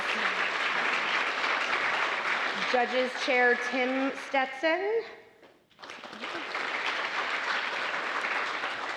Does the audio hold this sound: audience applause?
yes